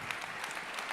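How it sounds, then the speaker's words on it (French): An audience at a corporate awards ceremony applauds five managers with a brief burst of many hands clapping together, dense and even, heard at a distance and fairly faint. "5 très grands managers que l'on applaudit bien fort"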